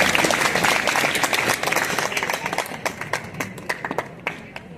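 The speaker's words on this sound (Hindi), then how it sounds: "ताली बजा दीजिए" Schoolchildren at a government school in Gharsana break into loud, dense applause that gradually thins out, ending in scattered single claps.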